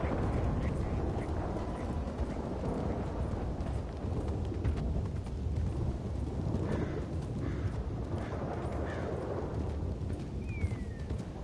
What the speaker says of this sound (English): Thunder and lightning, it sounds so much like an aeroplane.